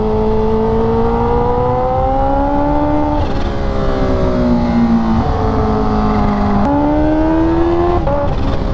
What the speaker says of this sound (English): Just hearing this bike echo off those walls